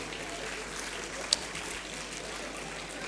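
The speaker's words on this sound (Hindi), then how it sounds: "तो एक बार ज़ोरदार तालियां हो जाएं हमारे सारे" Steady applause from an audience for event sponsors, a dense even wash of clapping lasting throughout with one brief sharper burst midway and no voices over it.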